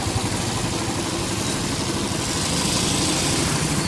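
Road traffic of cars, scooters and e-rickshaws rumbles past in a dense, continuous wash of engine noise, loud and unbroken throughout.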